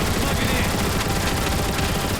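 Rapid turret gunfire from Transformers War for Cybertron crackles in a dense, continuous burst, loud and close throughout.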